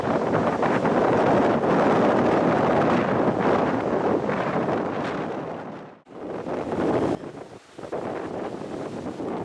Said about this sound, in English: it is blowing an absolute gale. It's so windy.